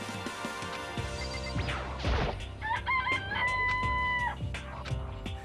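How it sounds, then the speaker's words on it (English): Chickens in the Danganronpa video game cluck and crow in a short burst of synthetic game sounds over music, with a brief crash-like hit before the rising bird calls. "Okay, they're chickens."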